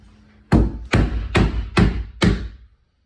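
Five sharp wooden taps strike cabinet hardware such as a knob or stop, each a firm knock about half a second apart, close and loud with no talk.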